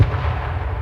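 A grenade bursts in an H1Z1 match, a single deep low-end boom that rumbles through the short moment and fades slowly.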